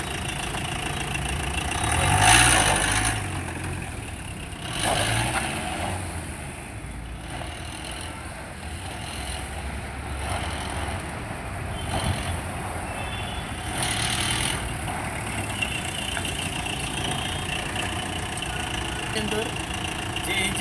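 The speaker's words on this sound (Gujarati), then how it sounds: "અંદર જે એન્જિન છે એ 1500 સીસીનું એન્જિન છે" A vintage jeep with a 1500cc engine idles steadily throughout, a continuous mid-low rumble with slight swells, while someone talks over it nearby.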